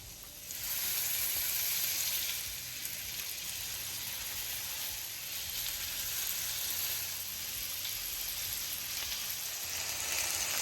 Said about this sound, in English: I already went in with some olive oil, so I'm going in with some butter. And we're going to start going in with the pieces of lamb